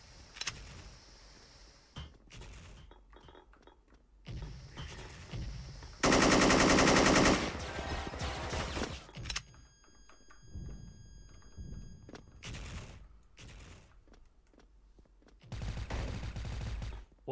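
Gunfire from the online shooter game Special Force: rapid automatic bursts and single shots crack out in uneven clusters, including one long dense burst of fire. Heard alone, with no talking.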